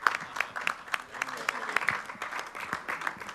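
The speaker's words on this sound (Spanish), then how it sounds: "Aplausos." Applause fills a Mexican Senate committee session debating energy reform, a dense steady patter of many hands clapping for the full few seconds at moderate distance.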